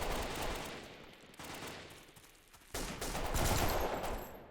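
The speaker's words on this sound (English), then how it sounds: "I think that's our teammates firing." Teammates fire their weapons in Delta Force Xtreme 2, a faint, distant patter of rifle shots and bursts that comes in uneven waves, with a louder flurry toward the end.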